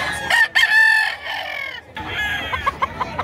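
A gamefowl rooster crows loudly up close, then breaks into a run of short, rhythmic clucks after a brief pause, with no other voices present.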